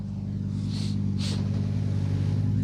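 A Ford Fiesta World Rally Car engine drones steadily at a rally stage with a deep, buzzing rumble throughout, loud and close, with a couple of brief hissing bursts layered on top.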